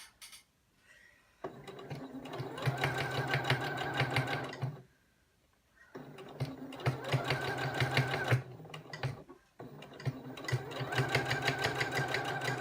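A sewing machine with a thicker needle stitches thick unsponge fabric in three long, loud mechanical bursts separated by short pauses, running steadily and close.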